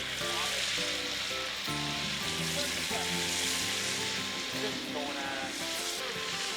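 Freshly caught bass and perch frying in a pan, a loud, steady sizzle with crackling and popping throughout, close up, with faint voices underneath.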